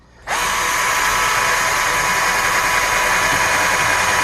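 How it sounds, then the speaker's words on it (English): A power drill with a hole saw spins up abruptly and then runs at a steady, loud whine, cutting through a filter installation surface, the tone holding constant as it works. "we're gonna take this hole saw and drill through here"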